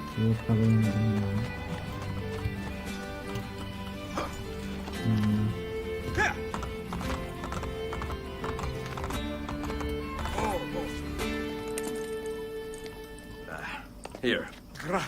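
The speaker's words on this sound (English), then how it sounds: "I have lost his favorite horse." Hooves pound in quick succession as a horse gallops in Assassin's Creed Brotherhood, with a whinny and bursts of game sound and music, while voices speak over the action.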